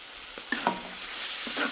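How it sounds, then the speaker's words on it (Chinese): Bean paste with dark and light soy and oyster sauce sizzles in a wok during stir-frying, a soft steady crackle broken by a few scraping spatula strokes, with no voices. "先把豆瓣酱炒香，炒出红油"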